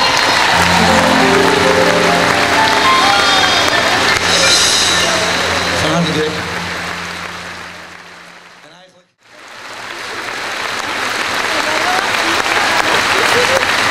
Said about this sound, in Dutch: geef me een geweldig applaus